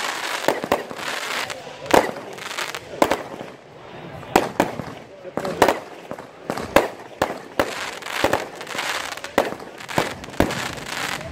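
Fireworks display at Labouheyre, 2018: bursts and crackle repeatedly at irregular intervals, sharp bangs over a steady hiss, with faint crowd murmur underneath.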